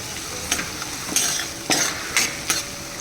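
Green onions stirred and sautéed in a pan for spinach-garlic khichdi, with a soft steady sizzle broken by five or six quick spatula scrapes and light clinks against the pan.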